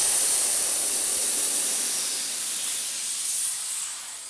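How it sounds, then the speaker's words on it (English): Compressed air hisses steadily into a tire on a Harley-Davidson Sportster during service, a close, loud, bright continuous rush that gradually eases slightly toward the end. "put a little air in it, see what happens"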